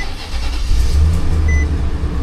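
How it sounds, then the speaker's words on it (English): An Infiniti QX56 with about 195,000 miles and an exhaust leak at the manifold starts up close by, its engine catching and settling into a steady low rumble with a brief rise in revs. "Let's go inside and start the engine."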